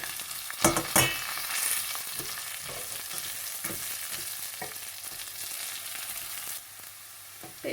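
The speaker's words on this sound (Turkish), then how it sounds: "şehriyelerim şöyle güzelce kızardıktan sonra 2 su bardağı pirincimi ilave ediyorum" Vermicelli and rice frying in a pot for Turkish rice pilaf, a steady close sizzle with occasional scraping stir strokes and clinks, no talking.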